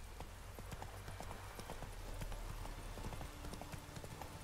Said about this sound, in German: Dann rufe ich doch mal eben das beste Pferd aller Zeiten.